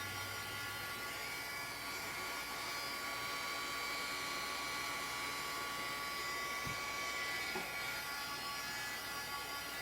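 A heat tool or dryer blows steadily to dry paint on a mixed media card, a constant close whirring hiss that holds unchanged from start to finish.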